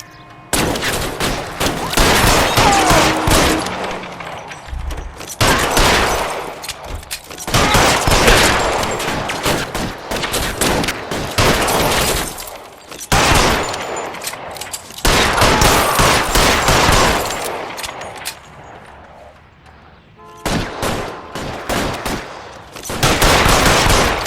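Heavy gunfire in the video game L.A. Noire, long bursts of rapid automatic shots in repeated volleys separated by brief pauses, loud and close throughout.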